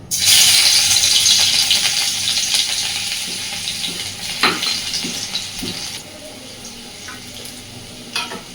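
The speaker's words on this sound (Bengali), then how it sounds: "তেল তো সুন্দর গরম হয়ে গেছে। এইবার প্রথমেই দিয়ে দিচ্ছি থেতো করে নেওয়া রসুনটা।" Crushed garlic dropped into hot oil gives a loud, close burst of sizzling that gradually settles, with stirring scrapes and a quieter crackle continuing toward the end.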